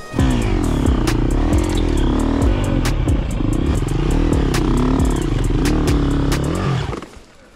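An enduro motorcycle revs hard along a trail, its engine rising and falling through loud roaring bursts and gear changes, with rattling clatter and sharp clicks, before the noise cuts off abruptly at the end.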